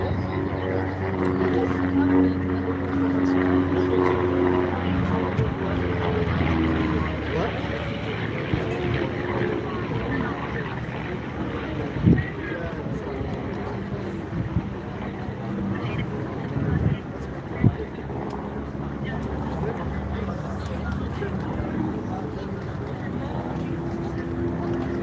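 Long-EZ small propeller airplane flying past at the Canadian International Air Show, a steady droning engine hum throughout, heard under continuous commentary talk with crowd ambience.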